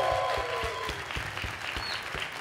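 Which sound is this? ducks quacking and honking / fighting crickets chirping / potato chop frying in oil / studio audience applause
studio audience applause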